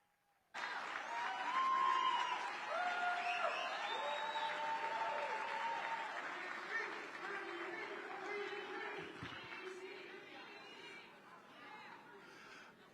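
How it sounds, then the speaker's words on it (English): An audience at a political gala in Columbia, South Carolina gives a sustained round of applause that starts abruptly, stays loud for several seconds, then slowly thins, with some chatter and laughter mixed in. "please give a round of applause for the chairman of the Black Conservative Federation, U.S. Congressman Byron Donalds."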